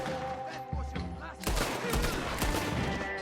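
Gunfire in the video game Red Dead Redemption 2, a short volley of close, loud shots over a droning background, with a few sharp cracks standing out.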